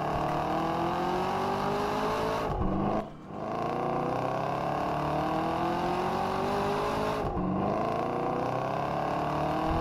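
A car driving in the Roblox video game, its engine a continuous humming whir with rising pitch sweeps like shifting gears and a couple of brief dips.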